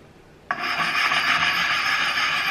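An axe edge is drawn across the smoother, finer side of an oiled sharpening stone from a Helko maintenance kit, giving a steady, continuous close rasping scrape that starts abruptly after a brief quiet moment and holds evenly throughout.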